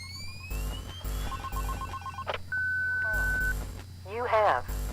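Telephone ringing inside the Five Nights at Candy's horror video game, with repeated electronic ring bursts and steady beeping tones over a low hum, loud and close, mixed with game sound effects.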